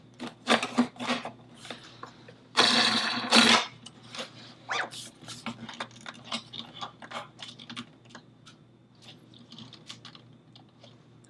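Plastic parts of a Dreo Pilot Max 42-inch fan clicking and snapping together during assembly, a run of close, sharp irregular clicks with a couple of louder rattling bursts, then lighter ticking taps.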